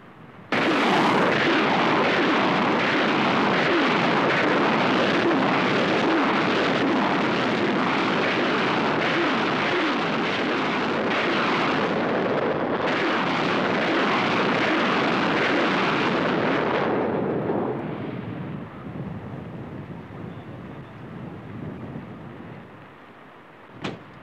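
Live rocket fire from an Egyptian Army exercise: a loud, sustained roaring rush of launches with no pauses for about sixteen seconds, then a quieter fading rumble and one sharp report at the very end.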